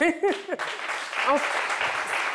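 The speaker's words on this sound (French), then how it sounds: "Des applaudissements pour dire qu'on ne me croit pas" A studio audience on a French-language midday TV show breaks into applause right after a brief spoken phrase, with a voice continuing faintly under the clapping.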